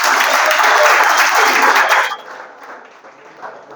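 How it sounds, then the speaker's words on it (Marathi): A crowd at a program held at a government ITI gives a loud burst of clapping that stops abruptly about halfway through, leaving faint room noise and a few scattered claps. "एकदा जोरात टाळ्या करा"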